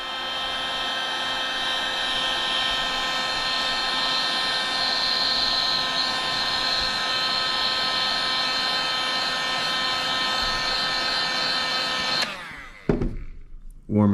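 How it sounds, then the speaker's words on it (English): A heat gun blows steadily while warming a Talon grip on a Glock, a loud continuous whooshing hum with a high whine running for about twelve seconds before shutting off abruptly. "now I'm going to heat that one up and permanently fix it"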